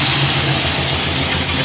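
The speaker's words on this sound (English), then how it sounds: "got some rattling going on. I think it might be the power steering" An idling GM A-body Cutlass engine with a loose power steering rattle, giving a steady, loud, close mechanical drone with no voices.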